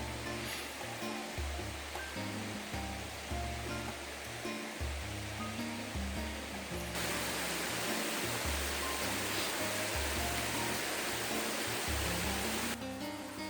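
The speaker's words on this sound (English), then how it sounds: "the waterfall's underneath me, running underneath this boardwalk" A waterfall rushes beneath a wooden boardwalk at a natural site called the Hanging Gardens, a dense, continuous roar of falling water that stays loud and unbroken throughout.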